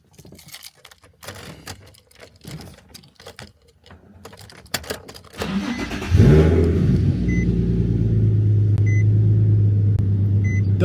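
Nissan 350Z engine after a throttle body swap: scattered clicks and handling noises, then the engine starts and settles into a loud, steady idle hum, with faint beeps chiming near the end.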